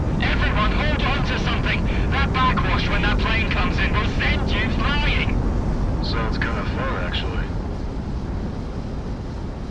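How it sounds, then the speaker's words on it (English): Loud, sustained roar of a fixed-wing airplane coming in to land in the video game Project Wingman, a heavy engine rumble filling the whole clip while voices talk over it. "That backwash when that plane comes in will send you flying."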